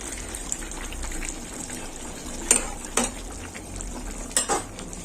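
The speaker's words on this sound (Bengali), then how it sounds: "আর একটু ফুটবে" Fish and fried pointed gourd simmering in a curry in a pan, a steady low bubbling with a few sharper clinks and stirring knocks in between, no talk.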